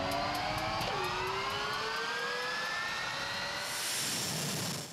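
A jet-powered dragster car engine roars loudly and continuously, its pitch climbing and then swelling into a bright, harsh blast near the end.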